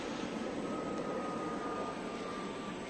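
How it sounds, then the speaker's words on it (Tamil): An airplane passing overhead gives a steady, distant roar of engine noise outdoors along a highway, with no voices and a level rumble throughout. "அப்படியே மேலே பார்த்தீங்கன்னா ஃப்ளைட்டு போகுது."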